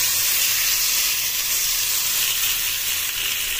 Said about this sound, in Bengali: এবার দেখুন এই তড়কাটা আমার রেডি হয়ে গেছে, এটা কিন্তু আমি ডালের ওপর দিয়ে ঢেলে দেবো